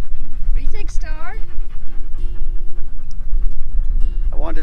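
A dog pants rapidly and steadily at close range on a pier at a Galveston Island State Park campground, with a person talking over the breathing.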